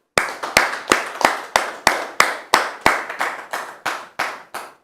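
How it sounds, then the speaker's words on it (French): A studio audience gives a round of applause on a television talk-show set, heard as a steady series of sharp, evenly spaced hand claps, close and loud, with no talk over them. "Applaudissements."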